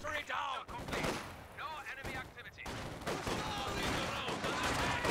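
Anti-tank gun fire in a Company of Heroes 2 match, shots and battle gunfire layered under a caster's continuous commentary.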